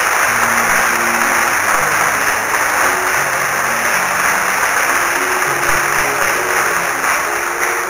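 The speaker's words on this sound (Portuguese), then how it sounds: "Se você quiser, você pode aplaudir o Senhor" Congregation in a church service applauding the Lord, a steady dense wash of clapping filling the whole stretch at even loudness, with a sustained tone and low murmuring voices beneath.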